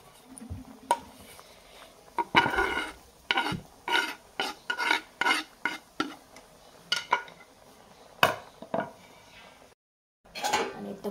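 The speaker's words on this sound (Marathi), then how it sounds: "आणि आता परतून घेऊया" Vegetable curry being stirred in a pot, a spoon scraping and rasping against the metal in a steady run of short strokes, near and moderately loud, with a brief silent gap near the end.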